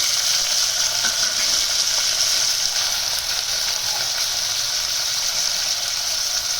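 Peas and long-cut tomatoes hit a hot pan for vegetable pulao, setting off a steady, loud, hissing sizzle that holds evenly throughout with no talking.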